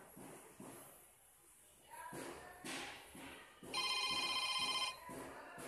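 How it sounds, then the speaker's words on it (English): Phone ringtone from a mobile called through an Arduino GSM module with a keypad, a faint ring that starts midway and sounds in a short loud burst, with handling thumps and taps around it. "Now it's ringing."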